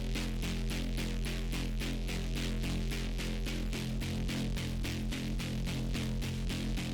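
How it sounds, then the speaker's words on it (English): A gritty, buzzing synthesizer from a remix pulsing in a steady rapid rhythm over a deep sustained bass, dense and loud throughout with no voices. "This synth, I'm still tweaking it currently because I don't like exactly how it sounds."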